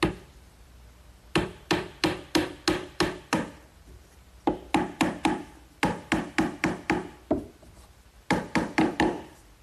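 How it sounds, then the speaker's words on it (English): Hammer blows drive 4-penny finish nails into wood, landing in quick clustered bursts of about six to eight sharp, close strikes with short pauses between groups. "I'm just going to set these in place with some 4-penny finish nails"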